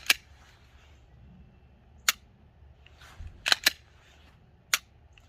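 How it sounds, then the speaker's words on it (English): Sharp, isolated mechanical clicks from an unloaded pistol, dry-fire trigger snaps and the slide being racked, a handful of crisp close metallic clacks spaced out over quiet background. "Rack the slide back, dry fire again."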